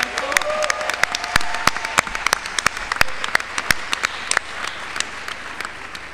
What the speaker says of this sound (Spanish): Nos merecemos un aplauso.